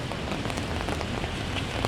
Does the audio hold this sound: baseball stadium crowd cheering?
no